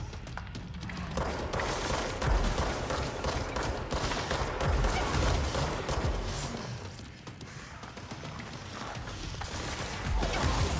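Game gunfire from unseen enemies in the video game Control, a steady dense barrage of shots and mechanical clatter, loud and continuous for the whole stretch with no talking over it.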